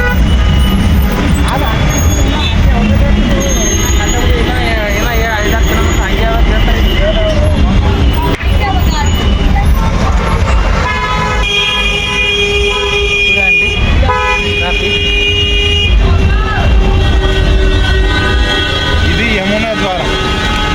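Crowded, loud traffic at the Maha Kumbh Mela in 2025, buses, cars and trucks rumbling nonstop while horns honk repeatedly and overlap, with voices of people talking mixed into the din.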